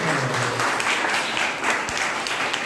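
An audience at a regional school sports meet applauds, giving a dense, steady roar of clapping that runs the whole time with no break.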